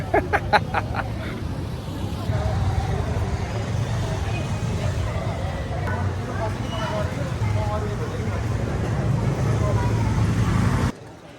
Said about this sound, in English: it does make traffic management very difficult at times.